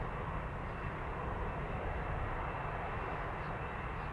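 A nine-year-old Boeing 787 Dreamliner jet departing Amsterdam Schiphol, a continuous mid-distance engine rumble at a constant moderate level, heard alone without talk.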